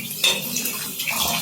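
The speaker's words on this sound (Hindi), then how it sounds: "सही पानी चलाना है, बस आलू डूब जाएं" Water runs into a cooking pot of potatoes in a home kitchen, a steady close splashing that continues for the whole short stretch with no voices.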